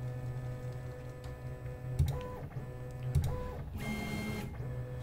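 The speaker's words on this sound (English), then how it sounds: "It's gonna take a little while for the bed to come up. We're homing the Z in 25 millimeter a second speed." 3D printer bed rising while homing the Z axis at 25 mm per second, a steady stepper-motor hum with periodic clicks and short tonal motor chirps, close and moderately quiet, with no talking.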